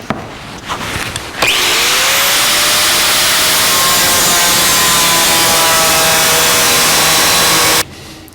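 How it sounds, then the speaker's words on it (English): Angle grinder cutting through the cab floor sheet metal of a 1949 Chevrolet gasser, a loud, steady high-pitched grinding whine that starts abruptly after a short lead-in and holds for about six seconds before cutting off. "I'm going to grind proud of the line and then grind to the line"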